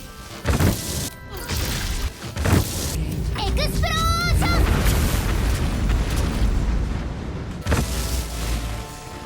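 An explosion in the video game Baldur's Gate 3, heavy booming blasts and crashes with a rumbling tail, mixed with game effects and a brief tonal chime.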